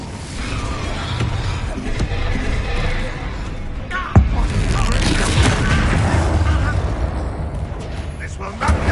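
A fire spell erupts in Hogwarts Legacy during a duel, a loud, continuous roaring blast with one sharp impact partway through, while game voices are heard.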